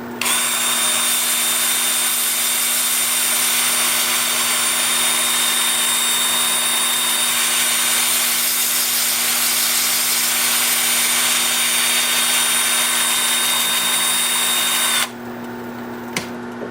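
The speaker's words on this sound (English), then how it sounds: "with the lathe spinning forward at about" A hazelnut wood bowl spins on a wood lathe at about 360 while being sanded, giving a steady, loud, close whine with a sustained high tone that drops away near the end; no talking.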